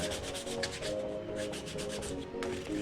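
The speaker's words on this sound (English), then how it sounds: "All right, so it's also sanding." Rhythmic back-and-forth rasping of sanding a foam RC plane wing, steady strokes repeating at a quick, even pace, close by and moderately loud.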